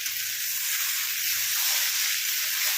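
Potatoes fry in a pan while prawn curry is being cooked, giving a steady, close broadband sizzle that holds an even level throughout with no talking.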